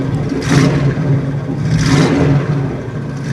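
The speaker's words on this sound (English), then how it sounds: "Pop it in neutral here and let it warm up a little bit." A 1979 Pontiac Trans Am's Oldsmobile 403 V8 warming up in neutral, idling loud and close with two swelling revs that rise and fall back to a steady rumble.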